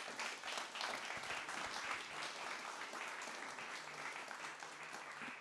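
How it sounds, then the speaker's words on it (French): A lecture audience gives sustained, steady applause at the end of a university summer-school talk, dense clapping that continues evenly throughout with no voices. "Je vous propose d'applaudir à nouveau Pierre Lévy."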